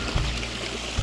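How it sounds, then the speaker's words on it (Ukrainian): Steady broadband water flow, a river in the Carpathian mountains running continuously nearby with a soft rushing wash and no voices. "Зліва річка, справа річка."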